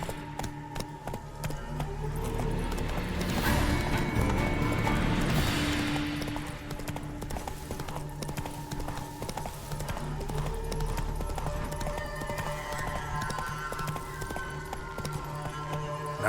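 Roach, the horse in The Witcher 3, galloping with rapid rhythmic hoofbeats over steady game music and ambience, the clatter swelling midway then continuing at an even pace.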